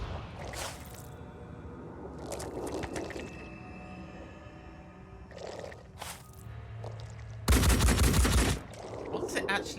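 Gunfire in the Phoenix Point: Terror from the Void video game, with repeated bursts of shots scattered through a busy mix and a loud, sustained barrage near the end.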